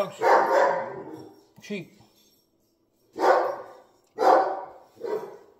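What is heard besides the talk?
dog barking at someone walking by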